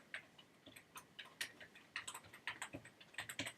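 Someone types a username on a computer keyboard, with quick, irregular, close key clicks in short bursts, faint and alone.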